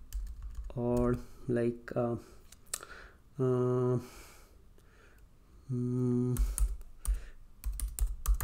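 Python code being typed on a computer keyboard, bursts of quick key clicks between stretches of someone talking, the typing close and moderately loud.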